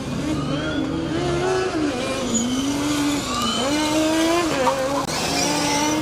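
Formula Student race car from Stuttgart in an endurance event, driving through a horseshoe turn and onto the final straight, its engine close and loud, pitch dipping through the corner and then climbing, with a brief tire squeal.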